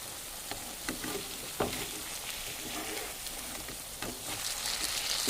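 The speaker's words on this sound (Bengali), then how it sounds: "এগুলোকে উল্টে পাল্টে এইভাবে ভেজে নেব লাল করে।" Malabar spinach leaves dipped in gram flour batter frying in oil as fritters, a continuous crackling sizzle with occasional stirring knocks, fairly close and alone.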